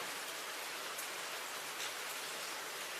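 Steady rain falls during a thunderstorm as an even, hissing wash of drops. It stays at a moderate level for the whole stretch, with no voices and no thunder.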